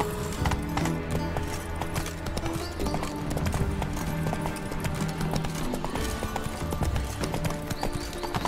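A horse galloping in The Witcher 3: Wild Hunt, a dense, continuous clatter of hooves with rapid clip-clop beats, loud and close, accompanied by faint whinnies and game background sound.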